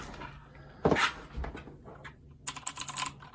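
A Razer BlackWidow mechanical keyboard being handled and typed on, with a soft thump and rustle first, then a close burst of rapid clicky keystrokes near the end, no voices.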